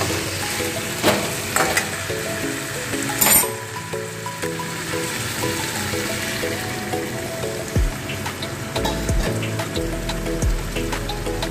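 Chicken curry sizzling steadily in a pan after a little water is poured in, a close continuous crackle under faint background music with occasional clinks.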